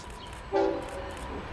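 A freight train locomotive horn sounds one short, loud honk at a rail yard in Fullerton, with a low rumble of rail traffic underneath.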